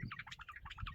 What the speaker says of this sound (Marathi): पिल्लांच्या आईला तिच्या पिल्लांची काळजी वाटते आणि त्यामुळं ती जास्त चिवचिवाट करते